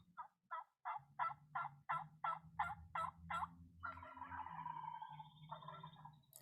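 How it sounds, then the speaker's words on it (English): Several wild turkey gobblers sound off in a rapid run of about ten loud, evenly spaced gobble pulses, followed by a longer rattling gobble trailing away, with a low background rumble underneath. "there's 3 gobblers, but one of them only gobbles occasionally"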